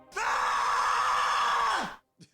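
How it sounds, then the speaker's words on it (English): One loud, sustained scream lasts about two seconds and cuts off abruptly, followed by a brief silence and a couple of faint sounds. "The scream officially knocks out the 3 minutes that we had on the clock there"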